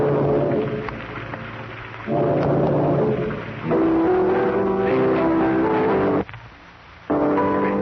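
Radio drama storm effect: a loud, continuous rumbling wash of wind and thunder with several swells and sudden drops, including a near-silent break before the roar returns, with no talk over it.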